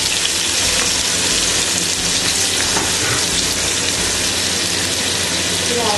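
Sliced ingredients for chicken mandi go into oil already used for frying onions and set off a loud, steady crackling sizzle that holds without a break, close up and rain-like.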